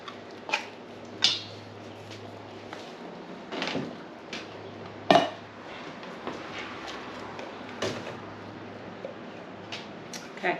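Cowboy baked beans with low-sodium bacon are mixed in a dish, producing irregular spoon knocks, clinks and soft scrapes spaced a second or two apart, close and fairly quiet.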